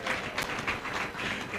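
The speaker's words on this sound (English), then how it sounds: "just give her a round of applause" Audience applause for a woman called to the front at an event, a steady wash of clapping that holds through with slight swells, fairly close and moderately loud.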